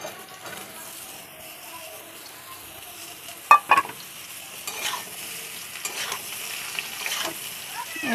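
Sliced ridge gourd drops into a hot pan, giving a soft, low sizzle with a few brief clinks and scrapes of a utensil, close but fairly quiet.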